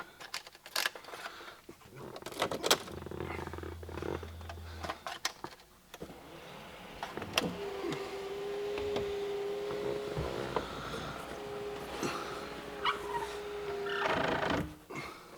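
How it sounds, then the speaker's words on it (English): An Audi A3's electric sunroof motor running with a steady mechanical whir for several seconds, close and moderately loud amid clicks and handling noises inside the car, with no talking. "so I've opened the sunroof just in case"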